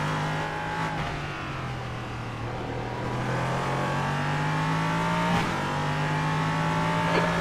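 Le Mans race car engines drone steadily on track, a loud sustained note with gear shifts and a brief sharp transient as other cars are overtaken, no voices.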